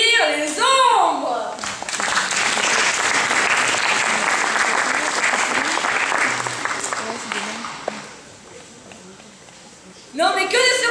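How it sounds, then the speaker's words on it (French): A theatre audience applauds student performers at a high school show, steady loud clapping filling most of the stretch before fading, with a voice speaking briefly at the start and again at the end. "Mesdames et messieurs, je vous demande d'applaudir les ombres."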